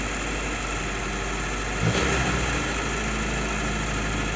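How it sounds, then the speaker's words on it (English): An M38A1 jeep engine idles with a steady close rumble, then surges briefly in a short swell near the middle before settling back to an even idle. "When I get it down to a decent idle speed, I get this surging"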